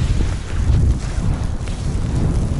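Strong wind blows across a frozen lake at night during first-ice fishing, a loud continuous roar buffeting the microphone with deep rumbling gusts and no pauses.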